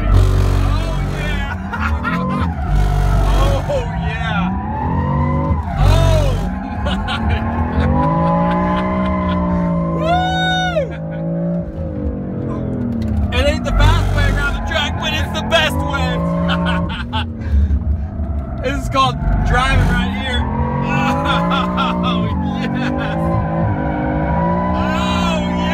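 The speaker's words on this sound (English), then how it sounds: "Welcome to drifting." A BMW drifts on a driving school track, tires squealing in long, wavering shrieks over a steady engine roar, with repeated sharp bursts as the car slides and swings through the drift.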